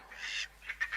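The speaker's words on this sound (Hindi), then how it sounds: "वो रहे पक्षी।" Cartoon birds honk in a short burst of nasal, goose-like calls, a long note followed by three quick honks, clear and close with no talk.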